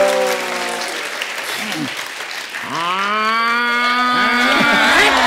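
A voice imitates a buffalo moo as a mock insult on a comedy stage show, two drawn-out lowing calls rising over loud audience applause and cheering.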